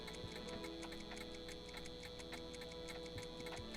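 Many clocks tick away inside Doc's house in the Back to the Future game, their regular, slightly staggered ticks layered over a low steady hum, quiet and with no speech.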